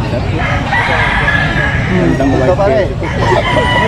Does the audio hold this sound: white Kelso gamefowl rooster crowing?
yes